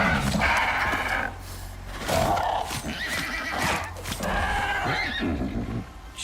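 A horse in the video game Icarus whinnies loudly several times, with hoof clip-clops and scuffling in between, close and with no talking.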